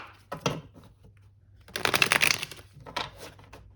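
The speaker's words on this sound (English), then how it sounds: "we'll do one last shuffle" A few bursts of cards being shuffled, riffling and flicking in short clusters with pauses between, close up.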